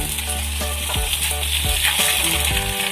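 A paratha fries steadily on a hot tawa, giving a loud, continuous sizzle with no talking.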